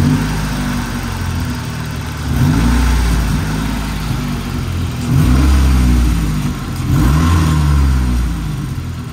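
A Saab 900 with vacuum leaks and a high idle settles into a steady, loud, close idle, with a deep low hum and brief swells of engine note at about 2.5, 5 and 7 seconds.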